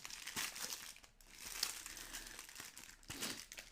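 Tissue paper crinkles and rustles as new Marvel Legends Spider-Man figure packaging is unboxed, a close, continuous papery crumpling with a few sharper crunches and no talk.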